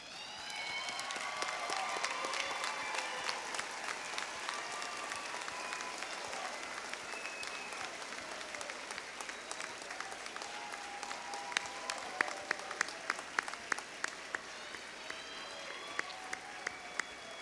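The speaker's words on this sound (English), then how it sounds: "let's give them a big round of applause" A large crowd at a 2013 graduation ceremony applauds the standing graduates, sustained dense clapping with scattered cheers and voices filling the hall, and a few sharper individual claps standing out near the end.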